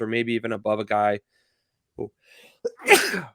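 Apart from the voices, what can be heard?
sneeze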